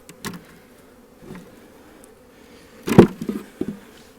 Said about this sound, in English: This dude is loaded with bees.